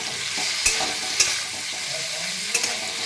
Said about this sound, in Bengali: আর একটু নাড়াচাড়া করে নেব,